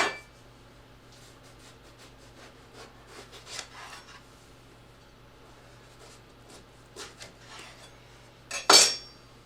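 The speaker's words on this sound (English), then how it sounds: "the first thing we're going to do is take our eggplant and cut that in half" A knife halving an eggplant on a cutting board: soft scattered taps and rubbing scrapes, then a sharper clatter of the blade near the end, close and quiet with no talk.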